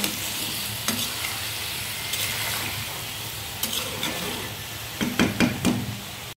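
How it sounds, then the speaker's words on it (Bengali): Maskalai lentil dumplings (dal bori) with winter vegetables frying in a pan, a constant sizzle with scattered spatula knocks and a cluster of quick scrapes near the end, close by. "এই যে ডালের বড়ি রান্না করছি"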